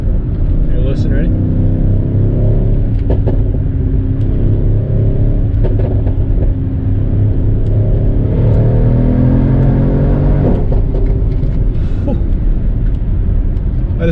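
A Mercedes ML63 AMG SUV engine roars and revs hard under a deep exhaust rumble while accelerating, with crackling pops and someone talking over the noise throughout.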